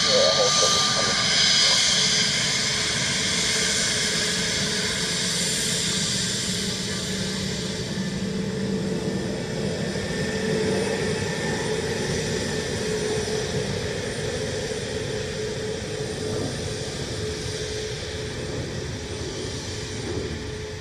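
An Air Baltic airliner from Riga at Dublin Airport, its jet engines roaring loud and broad at first, then holding a steady distant whine that slowly fades, with people talking faintly underneath.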